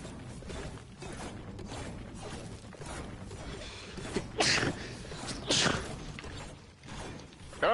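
Sneeze from a player during Fortnite gameplay, a sharp burst standing out over the continuous game noise, with a second similar burst shortly after.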